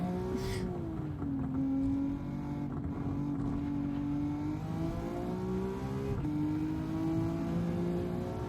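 A Maserati MC20 driven in the Gran Turismo racing game hums with a steady engine tone whose pitch rises and dips with throttle changes, continuous and alone throughout.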